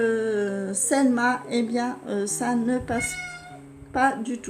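A pet cat meows several times in close, clear cries that overlap and interleave with a person speaking French nearby.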